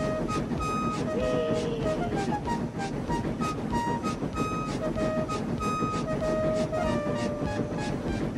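Cartoon-style steam engine train speeding down the line at high speed, with a loud, continuous dense rumble of wheels and rail noise, whistle-like tones and beeping sounds layered over the top throughout.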